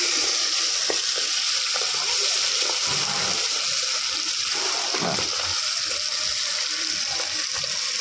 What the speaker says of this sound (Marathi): आणि आता घालून घेतात आहे फोडणीवरती.